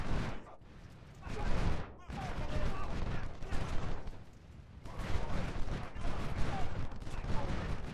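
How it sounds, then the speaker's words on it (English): Musket volleys in Ultimate General: Civil War, bursts of dense crackling gunfire rising and falling in waves, with repeated heavy volleys layered over one another at a fairly close distance. "Okay, we're shooting these guys down."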